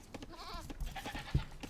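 Sheep bleat in Age of Empires II during an Arabia match of Saracens versus Dravidians, a short quavering in-game bleat followed by soft clicks and faint game sounds.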